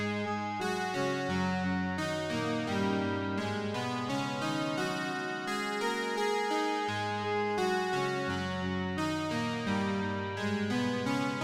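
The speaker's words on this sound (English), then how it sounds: "I almost forgot about all of the kind of intricate synths and percussion aspects of this part too." Layered synth lines and intricate percussion parts from an indie pop song play isolated, a dense steady musical texture with no voices.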